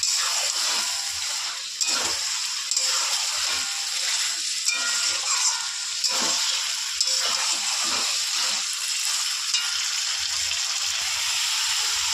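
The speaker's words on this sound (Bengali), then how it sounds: "মাথাটা দিয়ে এবার একটু কষিয়ে নেড়ে চেড়ে নিয়ে তারপরে দেবো বাঁধাকপিটা" Bhetki fish head being fried and stirred in a hot pan, a steady bright sizzle and hiss running throughout with occasional soft spoon scrapes, close and continuous with no voices.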